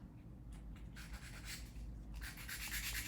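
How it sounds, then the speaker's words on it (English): A 180 grit file buffs an acrylic gel nail in short, close, rasping strokes, soft and rhythmic, with no talking. "to buff the nail to make it even smoother, I use 180 grit"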